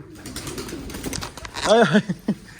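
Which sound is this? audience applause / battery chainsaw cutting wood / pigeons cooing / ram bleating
pigeons cooing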